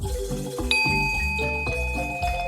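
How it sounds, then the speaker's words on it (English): Soft chime of elevator doors opening, a light ringing tone that rises over a gentle melodic music bed, moderately loud and sustained, no voices. "The elevator doors opened with a soft chime"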